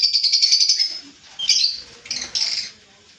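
Lovebirds for sale chirp in quick, shrill bursts close by, a rapid trill followed by a few shorter squawking calls, with no talk.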